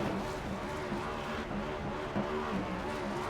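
A Next Gen series stock race car at Chicagoland roars through donuts and a burnout on the front stretch, engine revving hard and wavering continuously with tire squeal, loud and close, no voices.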